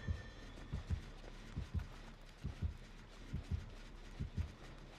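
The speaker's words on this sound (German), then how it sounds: "Warte, nee, Herzschlag." Heartbeat effect from the video game Dead by Daylight: a steady, low double-thump pulse repeating about every 0.8 seconds over a constant hum, with no voices.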